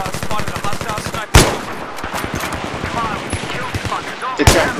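Rapid rifle fire from a recon soldier's weapon in Battlefield 3 on the Noshahr Canals map during a team deathmatch, with a fast burst of shots followed by two loud, booming reports over busy battle noise.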